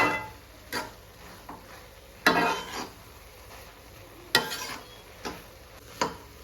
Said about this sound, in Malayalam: എന്നിട്ടൊന്ന് മിക്സ് ചെയ്ത് കൊടുക്കാം.